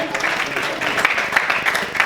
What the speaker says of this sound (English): So can we again applaud?